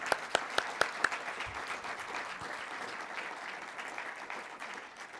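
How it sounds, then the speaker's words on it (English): An audience applauds panelists at the close of a legislative relations conference session: a few distinct loud claps open it, then a steady wash of applause from a modest crowd carries on evenly. "let's give them all a round of applause"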